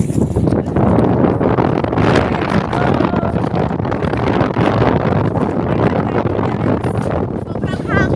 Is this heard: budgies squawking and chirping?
no